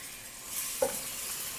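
Shrimp and bell peppers sizzle together in a stir-fry pan, a soft even hiss with one brief clink of a utensil, and no one talking.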